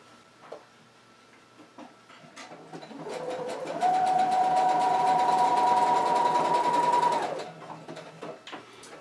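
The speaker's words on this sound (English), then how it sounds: "Now all you have to do is sew all the way down this edge, lining it up with the curve of the hood as you go" Sewing machine stitching down the edge of a spandex cowl, following the curve of the hood; a close, steady motor whir that starts lightly, then runs at a higher, even hum for a few seconds before slowing, with no talking.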